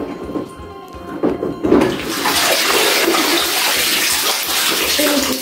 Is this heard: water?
yes